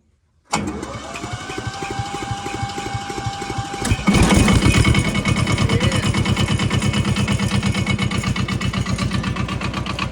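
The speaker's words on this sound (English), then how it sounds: "See if we can get a cold start on the old girl." An old tractor engine cold-starts, cranking briefly then catching and settling into a loud, steady, chugging idle with a fast rhythmic thump, close by.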